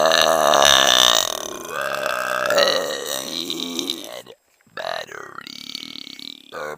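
A long, loud, gravelly burp rolls on for about four seconds, breaks off briefly, then a second shorter belch follows, close and alone.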